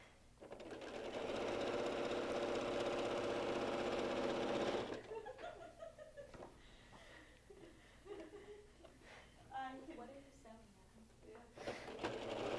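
A domestic sewing machine stitching long quilt borders runs in a steady, fairly loud whirring burst for several seconds, then stops as people chat and laugh softly nearby.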